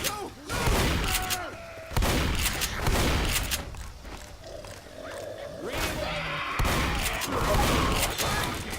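Guns fire in Left 4 Dead during single-player play, sharp repeated shots in bursts at roughly one- to two-second intervals, loud and close, with roaring creatures and game noise between them.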